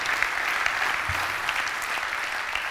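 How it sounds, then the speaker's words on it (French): An audience at a masters awards ceremony applauds, a dense, even wash of clapping at moderate distance with no pause. "on peut vous applaudir"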